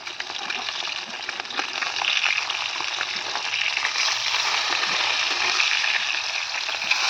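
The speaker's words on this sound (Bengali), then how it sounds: "ভোলা মাছটা ভাজবে" Bhola fish frying in a pan in a Bengali village kitchen, a steady dense sizzle and crackle of hot oil running loud and unbroken throughout, with no talk.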